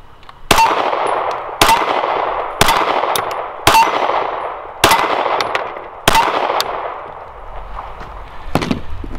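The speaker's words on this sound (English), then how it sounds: "we'll go ahead and shoot the 9 first." Six loud, evenly spaced gunshots from a 9mm Springfield XD pistol at an outdoor range, each crack ringing out with a long echoing tail and no talk.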